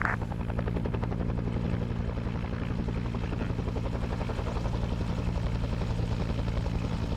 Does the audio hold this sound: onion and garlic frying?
no